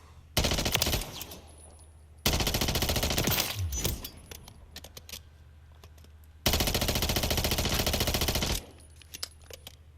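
A Striker 9 submachine gun in Modern Warfare III fires three long, loud full-auto bursts, each a dense stream of rapid shots separated by short quiet pauses with faint clicks.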